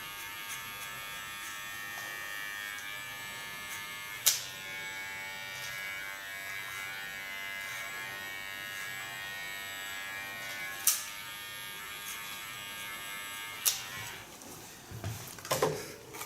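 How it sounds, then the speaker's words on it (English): An electric hair clipper trims hair with a steady, close buzzing drone throughout, broken by a few sharp clicks or taps, with no talking. "Take my small clipper and clean the contour line."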